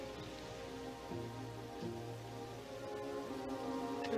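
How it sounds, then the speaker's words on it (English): Steady rain falling and pattering on surfaces, a continuous soft hiss with scattered drops, faint and alone with no voices. "the rain would wash away their footprints"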